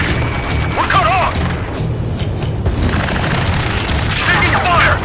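Gunfire and booming blasts roll through a combat scene in Ace Combat 7, loud and dense, with shouted radio chatter from the squad laid over the noise.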